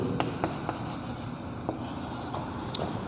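A teacher writing on a classroom board during a Hindi-medium science lesson, with steady scratching strokes and small taps at the start of letters, close and continuous with no talking.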